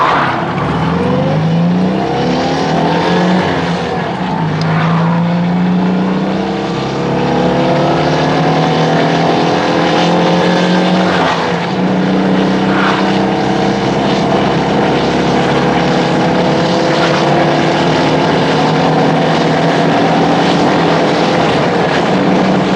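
A Citroën 2CV named Elly pulls out into traffic, its small engine droning loudly and steadily with a rising, strained pitch as it accelerates, continuous throughout with no talking.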